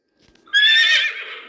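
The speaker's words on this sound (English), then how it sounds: "horse," A horse whinnies once, loud and close, a bright wavering call that rises sharply and then trails off into a breathy tail, with no other sound around it.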